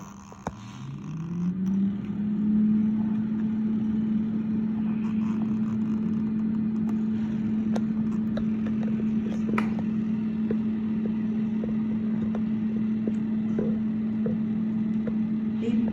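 An air fryer running at 200 degrees Celsius while cooking rui fish, starting up with a rising whir that settles into a steady, loud, close fan hum and drone with no talk over it.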